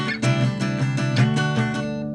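Guitar playing the next section of a song, a short run of close, evenly strummed chords with clear rhythmic accents, alone with no voices.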